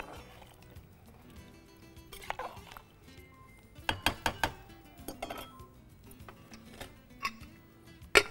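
Millet and water are stirred in a pot, producing scattered metallic clinks and scrapes of a spoon against the vessel, with a quick burst of knocks in the middle and a sharp clank at the end.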